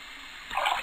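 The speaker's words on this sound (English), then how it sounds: "So water, put the water inside of the mixer." Water poured into a mixer in the Cube Escape: Seasons video game, a short splashing gurgle rising midway and fading, quiet, with no talk.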